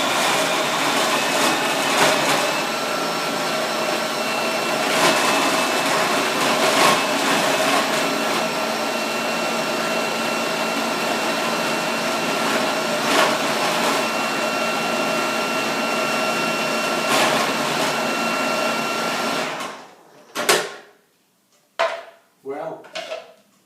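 A food processor blends nuts for a chocolate tart crust, giving a loud, steady, close-up motor whir for about twenty seconds before it cuts off. A few clattering knocks of the bowl and lid follow.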